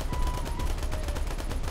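An aircraft gun fires in War Thunder as a rapid, steady stream of shots over a droning engine, loud and close throughout the short burst.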